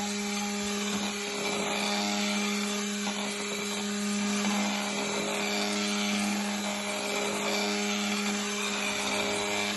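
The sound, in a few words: immersion blender mixing soap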